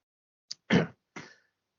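Three short, harsh coughs from a single person, one small catch followed by two fuller bursts in quick succession, close up with silence between them.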